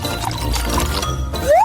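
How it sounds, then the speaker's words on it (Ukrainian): A full bottle of oil is emptied into a vase, giving a continuous glugging pour that ends in a rising filling tone as the vessel fills; no one speaks. "Зальєш туди олії та без проблем. Виливаємо всю пляшку."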